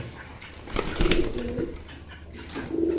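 Fancy racer pigeons coo in a few low, soft calls close by, mixed with brief sharp rustles or wing flaps.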